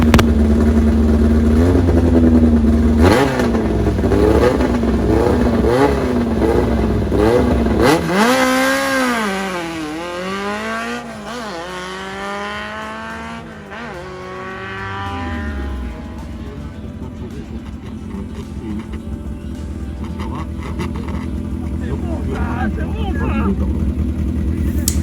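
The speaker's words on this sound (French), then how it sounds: "Le moteur étant neuf, Anthony fait toujours attention à son départ et ne monte pas trop haut dans les tours." A race car engine revs hard at a rainy hill climb, with repeated rising and falling pitch sweeps, then fades as it pulls away, while an announcer talks over it.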